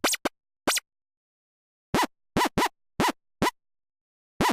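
A Reason 7 synth patch with every shift value reset to zero plays a baseline signal of short, clipped synth notes: two quick blips, a gap, then a steady run of evenly spaced hits, clean and alone.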